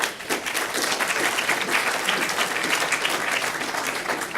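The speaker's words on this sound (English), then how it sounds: "Give him a big applause." A conference audience at a panel discussion breaks into sustained applause, dense and even clapping from many people filling the hall at steady loudness for several seconds.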